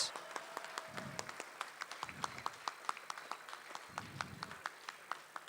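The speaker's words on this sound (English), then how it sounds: "let's have one final round of applause for your top 8 competitors" Audience applause for the top eight competitors at a tournament event, a moderate burst of clapping with rhythmic sharp claps and a few low thumps, steady through the clip.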